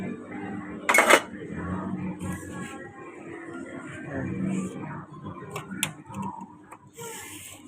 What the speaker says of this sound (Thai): นี่ทุกคนนะผัดคะน้าด้วยนะ